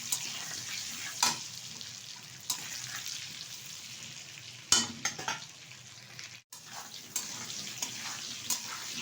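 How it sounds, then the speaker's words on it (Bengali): Potatoes rubbed with salt and turmeric frying lightly in oil in a pan, a continuous close sizzle broken by several sharp scrapes and clinks of stirring at irregular intervals. "হালকা করে ভেজে তুলে নেব।"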